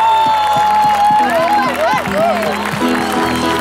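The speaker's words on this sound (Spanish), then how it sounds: "un minuto de aplauso para conseguirlo." A loud crowd at a joropo music event in Bogotá applauds and cheers, with rising whistles and shouts over a steady bed of clapping.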